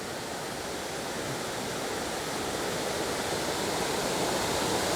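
A waterfall in Ithaca, New York in early morning, a loud, constant broadband roar of falling water that holds steady from start to finish with no voices.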